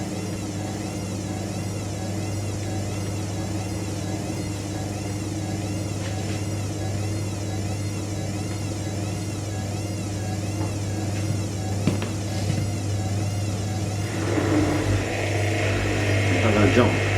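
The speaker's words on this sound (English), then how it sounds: "Every time I see a modern machine doing a distribution drain on second intermediate spin now." Indesit IWDC6143 washer dryer on a wool programme doing a distribution drain during intermediate spin: a steady close motor hum and whir with the drum building speed near the end, a voice talking over it.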